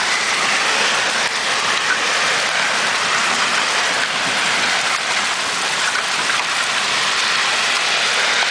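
Large hailstones pelt down during a hailstorm in Lakewood, Colorado, a dense, continuous loud hiss of impacts that never lets up, with no voices.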